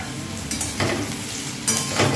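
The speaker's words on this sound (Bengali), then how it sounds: "পটলগুলোর সাথে আবার ভাজবো" Pointed gourd and bitter gourd frying in a pan make a close, steady sizzle, broken by a few scraping stirs of a spatula.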